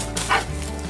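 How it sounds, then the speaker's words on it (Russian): A dog gives a single short bark while playing with a garden rake outdoors, a close yip over steady background noise. "Никак не может наша собака успокоиться."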